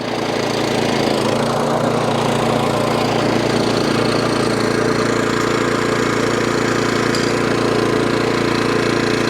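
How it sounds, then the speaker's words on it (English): A Suffolk Punch 14-inch SK cylinder lawnmower engine runs loud and steady close by, a continuous mechanical drone with rattling blades and no pauses. "that little Suffolk Punch 14-inch SK lawnmower now all up and running"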